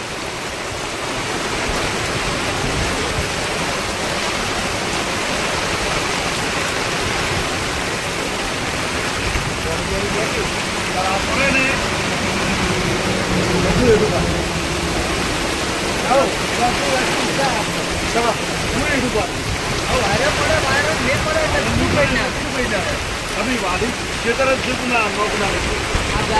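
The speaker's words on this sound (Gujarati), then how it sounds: "ફૂલ વરસાદ પડી રહ્યો છે" Heavy rain pours down on a highway in a constant loud roar that never lets up, while people talk now and then underneath it.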